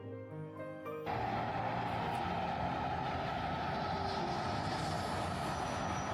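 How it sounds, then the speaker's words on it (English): A Shinkansen high-speed train roars past at close range in Tokyo, a steady loud rush of wind and rail noise that swells in suddenly and holds. "There goes the Shinkansen."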